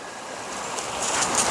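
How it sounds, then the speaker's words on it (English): A river flowing between Coedpoeth and Bersham, a continuous broadband wash of running water that is steady and moderately close, with no voices. "A lovely river."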